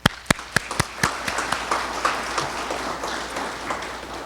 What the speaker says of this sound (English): they deserve a real round of applause.